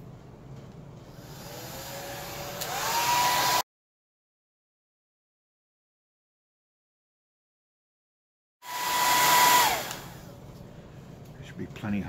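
A heat tool blowing hot air onto parts of a Winchester Model 1906 pump-action .22 gallery gun, a steady close whooshing roar that cuts out and then restarts several seconds later.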